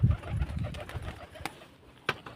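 Pigeons coo in low, soft pulses near the start, followed by quieter rustling and a few faint clicks and taps.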